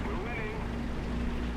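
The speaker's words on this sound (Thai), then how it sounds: "ได้ยินเสียงเครื่องยนต์ละ" A video game M36 tank engine drones steadily with a low, rumbling roar throughout, in War Thunder, while a voice briefly murmurs over it near the start.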